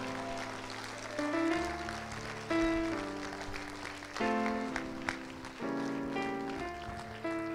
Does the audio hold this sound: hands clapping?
yes